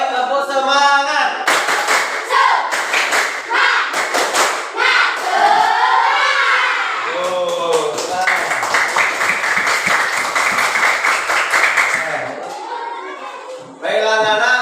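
Schoolchildren in a classroom clap out a rhythmic cheer pattern again. Dense, sharp claps come in patterned runs, mixed with loud group chanting and shouting, and end with a brief pause before more voices.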